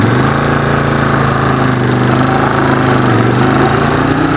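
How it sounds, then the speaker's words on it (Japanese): Suzuki Desperado 800X V-twin cruiser engine under way, a loud, continuous throbbing drone with steady low harmonics and a slight dip in pitch near the end. "いや、エンジンの主張強いよこれ。"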